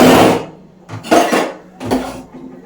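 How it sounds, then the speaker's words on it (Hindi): Tea pots and dishes being washed by hand at home: a few sharp metallic clanks and scrapes of utensils in separate bursts, close and fairly loud, with quiet gaps between. "चाय के बर्तन मैं जल्दी से क्लीन कर लेती हूँ"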